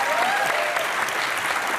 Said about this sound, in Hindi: अच्छा इसके ऊपर तालियां बजा रहे हो आप?